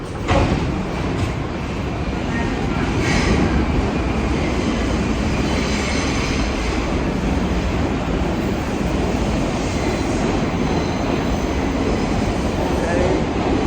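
The number 5 subway train in New York City roars through Brooklyn Bridge station, a loud, continuous rumble with faint wheel squeal and clatter, heard up close from the platform.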